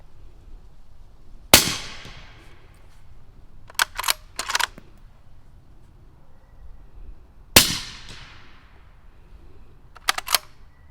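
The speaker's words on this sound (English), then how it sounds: "Now we got it on my Ruger American 350 Legend. Running subsonic ammo." Two sharp, close shots from a suppressed Ruger American rifle in 350 Legend firing Winchester 255-grain subsonic ammunition, each a brief crack with a short decaying tail, followed by quick metallic clicks of the bolt being cycled.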